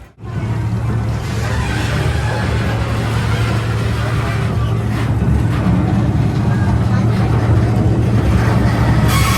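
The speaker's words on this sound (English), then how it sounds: "It looks like the train just pulled up." The old Kennywood Railroad, a small amusement park train in West Mifflin, Pennsylvania, rumbles nearby as it pulls up, with a steady low engine drone and rolling noise, loud and continuous throughout.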